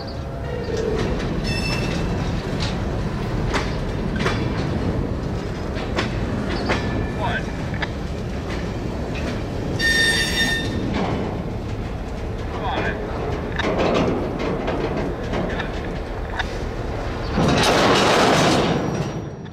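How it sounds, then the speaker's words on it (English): An NX10 freight locomotive shoves a string of cars back east toward inbound loads, producing a steady close rumble with clanks and brief metallic squeals, swelling louder near the end. "the NX10 shoves back east to the inbound loads"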